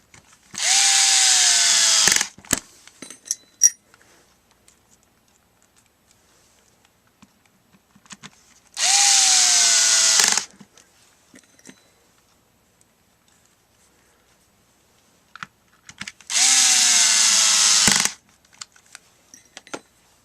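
A Makita 12V FD05 two-speed 3/8-inch cordless drill drives screws into plastic in three separate bursts of a steady whirring motor, each about two seconds long, spaced by quiet stretches with small clicks and handling noises.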